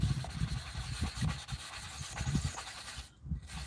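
Sandpaper rubbing a small black mark on the housing of a Honeywell Turbovisor DTVR during refurbishment, a steady scratchy back-and-forth rasp in short close strokes, pausing briefly near the end.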